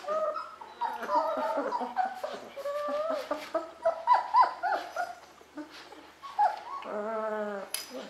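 Young puppies, 24 days old, whimpering and yipping close by in a run of high, wavering cries, ending in a longer drawn-out whine; no talking.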